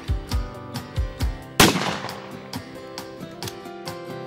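Shotgun blasts at trap shooting on a ranch: one loud close report stands out amid lighter repeated pops and background music.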